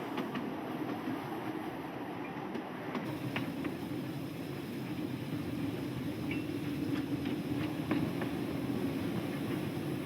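The Banana Express train runs through the South African countryside near the village of Izotsha, a steady rolling rumble with faint rhythmic wheel clicks, heard alone at moderate distance.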